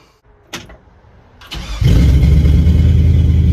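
A 1966 Chevrolet C10 with a new muffler: a couple of sharp clicks, then the engine catches and bursts into a loud, deep, steady rumble that holds to the end.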